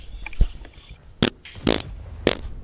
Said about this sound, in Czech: Prdík.